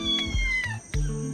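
A young kitten meows repeatedly, three quick plaintive mews in a row, close and clear with no talking.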